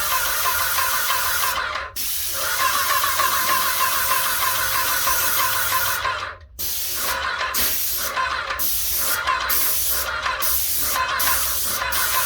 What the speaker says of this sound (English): when you're spraying ceilings, the purpose of spraying is to make it easier and for it to cover in one coat